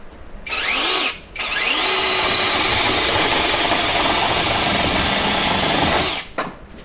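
A cheap handheld chainsaw cuts through firewood, its loud, steady high-pitched motor whine briefly dropping near the start before roaring on continuously, then cutting off at the end.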